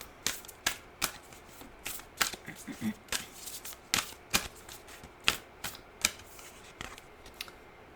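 Shamanic Medicine Oracle cards being shuffled by hand, a rapid series of crisp riffling flicks and slaps in quick irregular bursts, close and fairly quiet, with no talking.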